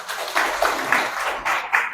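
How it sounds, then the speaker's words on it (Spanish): An audience at a Catholic talk on the Mass claps to welcome a speaker, a close, moderately loud patter of hand claps in several uneven bursts. "Un aplauso."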